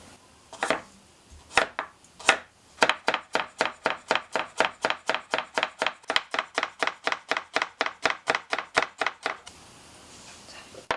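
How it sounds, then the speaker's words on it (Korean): A knife cuts carrots into fine julienne strips on a cutting board, first a few slow separate chops and then a long even run of quick rhythmic knocks, close and clear, before it stops. "가늘게 채 썰어 주세요. 당근 채 썰어 볼게요."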